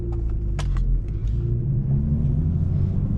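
A manual BMW 335is tuned to about 400 hp idles with a deep, steady rumble that wavers slightly as the idle settles, close and loud, with a few brief clicks near the start.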